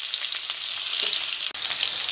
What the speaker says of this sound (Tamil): இப்போ கட் பண்ணி வச்சு சின்ன வெங்காயத்து போட்டுக்கலாங்க